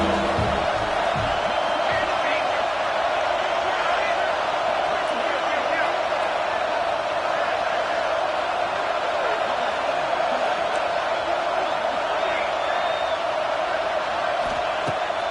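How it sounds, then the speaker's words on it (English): A college football stadium crowd roars for the defense on a third down, a continuous loud wash of cheering and shouting that stays at full intensity throughout. "Big third down as the crowd gets behind this defense."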